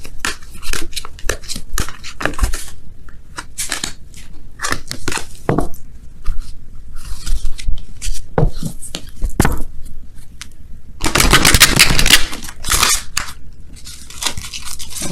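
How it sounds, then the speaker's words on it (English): Tarot cards shuffled by hand in quick bursts of crisp riffling and slapping, with a longer dense riffle near the end; close and fairly loud, no talking. "I just want to do a quick little shuffle here."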